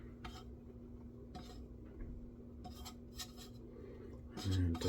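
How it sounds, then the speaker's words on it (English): A spoon stirs orange zest into poundcake batter, giving a few soft scraping and clinking strokes against the bowl at irregular intervals over a low steady hum, with one louder knock at the end. "We'll keep stirring that in."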